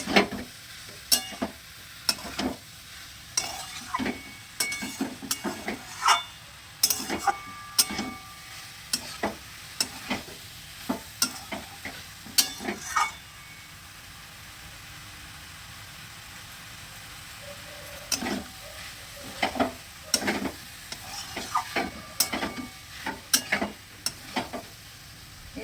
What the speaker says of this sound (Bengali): কিছুক্ষণ 2-3 মিনিট মতো ভালো করে মশলার সঙ্গে এই সয়াবিন লাউ এটাকে ভালো করে